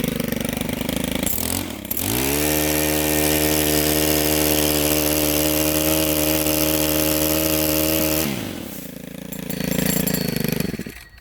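A small gas engine on a Stihl HT105 pole saw revs up to a high steady whine as it cuts a limb, holds for several seconds, then drops back to idle.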